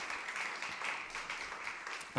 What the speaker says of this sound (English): Another warm round of applause for Mark.